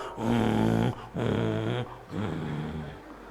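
A dog lets out three drawn-out growls in close succession, each a loud, tonal rumble that breaks off between bursts, with no talking over them.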